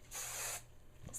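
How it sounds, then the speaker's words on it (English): A short burst of aerosol hairspray, a bright hiss lasting about half a second, then a quick second puff at the end. "Spray it."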